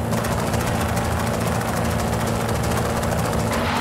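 A tuned car engine drones loud and steady in a video game, with faint crackling exhaust pops flickering through the sustained low rumble.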